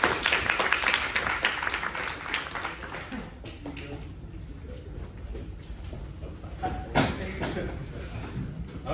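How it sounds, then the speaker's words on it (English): Audience applause at a university mathematics talk, a burst of many hands clapping that tapers off over a few seconds, then scattered claps and some talk in the room. "Round of applause."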